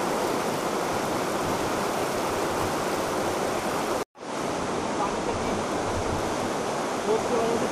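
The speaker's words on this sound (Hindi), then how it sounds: "पानी का बहाव तेज है ना" A fast mountain river in Mechuka, Northeast India, rushes in a loud, continuous broadband roar close by. The flow is briefly cut off for an instant near the middle and then resumes.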